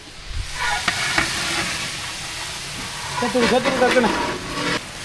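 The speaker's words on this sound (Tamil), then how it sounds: "மசாலாலாம் சேர்த்து நல்லா கலந்து எடுத்துக்கலாம்" Masala stirred into frying onions and tomatoes for chicken biryani, a steady close sizzle with scraping stir strokes and a few brief clatters.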